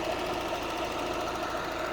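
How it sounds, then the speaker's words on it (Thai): A used Toyota Soluna's 1.5-litre engine, fitted with a gas system, idles steadily nearby with an even, rattling hum and no other sounds. "เครื่องยนต์สมบูรณ์นะครับ พร้อมใช้งานมากๆนะครับ"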